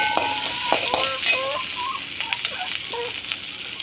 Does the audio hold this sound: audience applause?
no